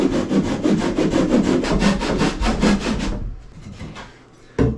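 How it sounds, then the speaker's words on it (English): A hand saw cuts wood for a step aboard a wooden boat, with about three seconds of quick, steady back-and-forth strokes, close and loud, then a pause and a short knock at the end. "I'm going to cut this by hand because I'd like it to be a little cleaner than what the reciprocating saw would give me."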